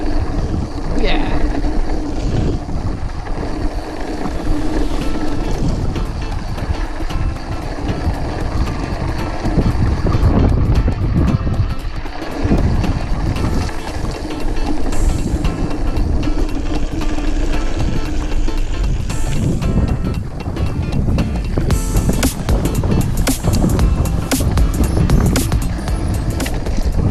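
Strong gusty wind, around 20 to 30 mph, buffets the microphone while mountain biking near Navajo Rock in Moab, a loud rumbling roar with a voice occasionally heard.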